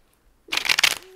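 A deck of tarot cards is shuffled in a short, crisp burst of riffling and sliding card noise after a moment of quiet, close and fairly loud, with no talking.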